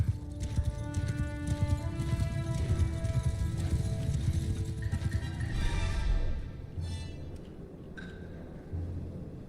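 Cavalry horses in a strategy video game gallop in a dense, rapid clatter of hooves, with a brief whinny mixed into the busy battle noise before the hoofbeats thin out.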